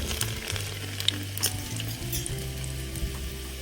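Garlic, cumin and asafoetida fry in hot oil with a busy, crackling sizzle, close by, along with a few light clinks of stirring.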